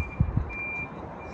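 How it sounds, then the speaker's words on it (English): Reversing beeps from a forklift: a steady high electronic tone held through the whole stretch, moderately distant, with a couple of low thumps early on and no talking. "That's not me beeping, that's a forklift."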